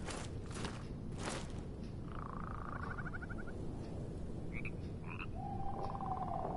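Frogs in the dark fantasy video game Mortal Shell give a few short croaking calls, moderately quiet and spaced apart over a low ambient rumble, with no voices.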